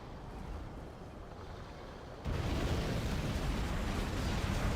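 Nuke cannon fire in the strategy game C&C Generals Zero Hour: a low, rumbling blast wash that grows suddenly louder midway and carries on as a dense, sustained roar of explosions.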